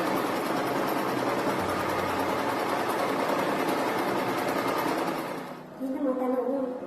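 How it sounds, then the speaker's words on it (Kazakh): A sewing machine stitches a seam in fabric with a steady, close whirring drone that runs for several seconds before slowing and stopping, with a voice speaking over it. "Енді осы тіккен тігісімізді машинкеге, тігіс машинесіне салып тігіп шығамыз."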